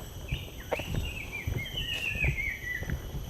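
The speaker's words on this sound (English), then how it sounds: "Now we have a bit of birds. A bit of bird song." A bird whistles a thin, drawn-out rising and falling song near the water at evening by a fishing port in Johor, Malaysia, moderately distant over a low rumbling ambience and scattered soft knocks.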